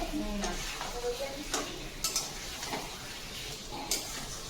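Food frying in a pan with soft sizzling under occasional metallic scrapes and clinks of a utensil stirring, quiet and close, without talk.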